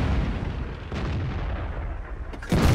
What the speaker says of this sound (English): One more shot should finish him off.